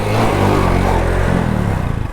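A motorcycle fired with the electric self-start catches and runs, its engine rumbling loudly and steadily up close with a slight rise in revs.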